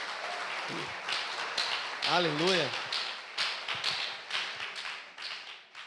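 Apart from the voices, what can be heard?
church congregation applauding a pastor couple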